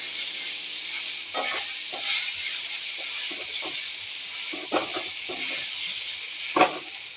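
Onions and crushed ginger-garlic paste sizzle steadily in a pan for mushroom curry, a loud continuous hiss broken by several short scraping stirs of a spoon, with no talk.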